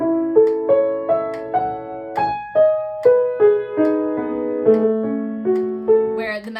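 Triplets dragging slightly behind a metronome click, a steady, descending line of clear sustained notes with sharp regular attacks, close and moderately loud, ending on a short spoken fragment.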